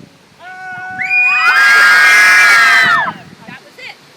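An audience imitates a blood-curdling scream together, a loud, sustained chorus of rising and falling shrieks lasting about two seconds before cutting off, with crowd murmur before and after.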